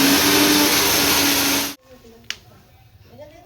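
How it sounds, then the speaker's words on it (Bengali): A mixer grinder whirs loudly while blending coriander leaves into a paste, a steady high-pitched motor roar that cuts off abruptly partway through. A clack follows, then a person starts talking. "ধনে পাতা সব মিক্সচার মেশিনের ভিতরে ভরা হয়ে গেছে"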